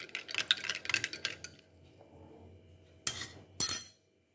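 A spoon stirs warm water with lemon and honey in a glass, giving soft scraping and a couple of sharp clinks against the glass near the end, after a stretch of brighter clattering.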